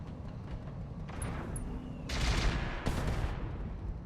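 Mortar and weapons fire in the video game Roguetech (BattleTech) lands as a few heavy, rumbling blasts in a row over a constant low mechanical drone, with the loudest bursts toward the end.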